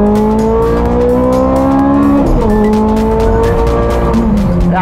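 A Ferrari sports car engine revving hard while driving, a loud, close, rasping howl with rising pitch that dips at a gear change and then climbs again, with no talk.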